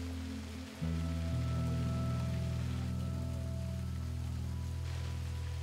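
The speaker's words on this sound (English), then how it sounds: "This unanticipated cascade takes its source from the rain and from the mountaintop's melting ice cap" Rain-fed and meltwater cascade tumbling down the slopes of Kilimanjaro, a steady broadband rush of falling water that holds constant from a brief quiet start, with a low drone underneath and no talk.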